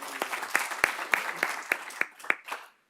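Seated guests at a regional economic coalition health forum give a brief round of applause for the Moulton Niguel Water District president, crisp separate claps at a steady pace that die away to silence at the close.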